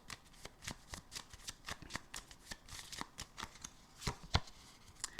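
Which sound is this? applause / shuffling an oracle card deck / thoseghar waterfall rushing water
shuffling an oracle card deck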